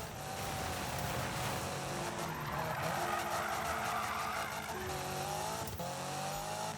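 In the 2015 Need for Speed racing game, a drifting car's tires squeal steadily over engine roar for several seconds, loud and continuous, ending with a brief shift in engine tone.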